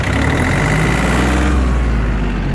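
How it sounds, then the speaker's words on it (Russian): A Yanmar RS-24 mini tractor engine runs loud and steady at maximum revs, a continuous even drone with no breaks. "Максимальные обороты, двигатель работает максимально ровно,"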